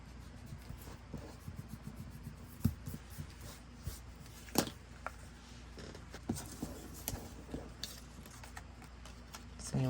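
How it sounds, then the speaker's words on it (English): Pencil marks being erased from a paper card for an artist trading card tunnel book, heard as soft scattered rubbing and light tapping strokes, fairly close and quiet, with occasional sharper clicks and no speech. "Erase any pencil marks."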